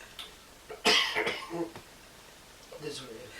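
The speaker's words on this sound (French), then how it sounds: "si t'as envie de tousser" A single short cough bursts out mid-conversation, followed by a few softer throat sounds, close and moderately loud against quiet room tone.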